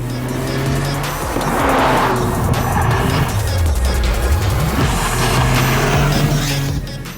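2024 Toyota GR Corolla driven hard through a corner, engine note dipping then climbing as the throttle reopens, with sustained tire squeal and skidding over a loud, close, continuous roar.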